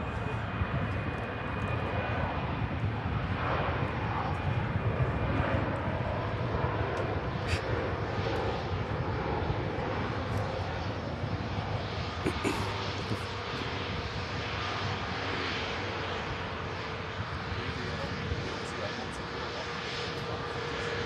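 An EasyJet airliner from Geneva rolls off the runway after landing at Manchester Airport, a steady, fairly distant engine rumble lasting throughout with a voice talking over it.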